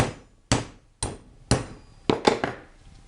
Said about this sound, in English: hammer so I don't damage the cutting things